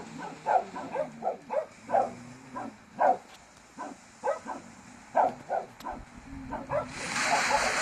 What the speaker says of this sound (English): I think they're barking at a bear.